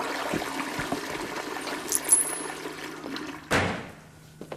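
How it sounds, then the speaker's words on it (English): A toilet flushes in a bathroom, with trickling water and low background noise giving way to a sudden loud rush of water that fades out, followed by a light knock. "How about a courtesy flush over there?"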